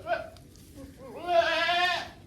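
Goats on a farm let out a short bleat, then a longer, wavering, nasal bleat that rises and trembles for about a second at close range, with quiet background noise around them.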